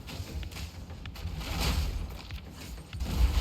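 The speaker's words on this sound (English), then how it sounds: "The explosions are already getting pretty big." Spell explosions in Path of Exile 2 from a Warrior build with an enlarged Herald of Ice, a dense run of booming, crackling game blasts layered over steady low rumble, fairly loud throughout with no talking.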